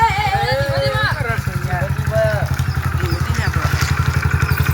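A new motorcycle engine idles close by with a steady low rapid thumping pulse throughout, while several voices talk loudly over it.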